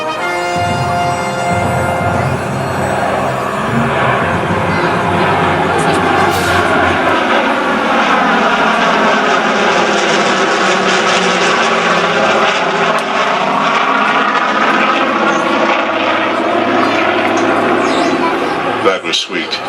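Vintage piston propeller aircraft engines at the Biggin Hill air show drone loud and steady, with the tone shifting as the plane passes overhead, over a sustained roar with no clear speech.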